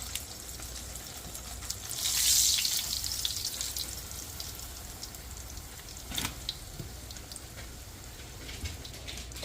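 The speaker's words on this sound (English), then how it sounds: "I am still frying my tortillas, my tacos, woo, in the bacon grease" Tortillas fry in bacon grease, a steady crackling sizzle that swells loudly for a moment and then settles into a softer, continuous spitting, with a brief clatter partway through and no talk.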